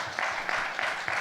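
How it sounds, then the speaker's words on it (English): An audience at a quantum engineering summit session applauds its panelists, a brief, fairly soft burst of steady clapping heard alone. "I invite you to join me in giving our panelists a big round of applause."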